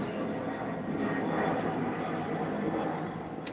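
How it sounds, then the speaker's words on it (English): An airplane passes overhead as a steady, broad engine roar that holds throughout, fairly distant and even in level, with no talking over it. "Sorry, we have a plane flying overhead."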